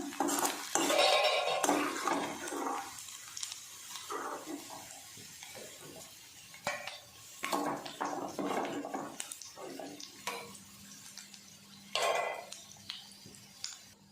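Fried prawns lifted out of a pan with a metal ladle, giving close, repeated clinks, scrapes and clatters of metal on metal with no one talking.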